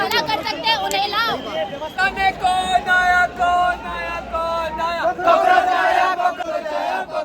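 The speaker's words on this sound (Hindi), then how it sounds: "लोग नारे लगा रहे हैं और अपनी मांगों को लेकर प्रदर्शन कर रहे हैं" Protesters at a hunger-strike demonstration at Jantar Mantar in Delhi chant slogans loudly in unison, rhythmic call-and-response shouting from a nearby crowd with steady chatter beneath.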